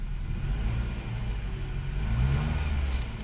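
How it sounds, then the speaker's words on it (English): Car engine revved briefly at an auto auction, a vehicle with a CVT transmission, giving a steady, close low-pitched roar that swells slightly toward the end with no talking. "Let's give her a quick rev."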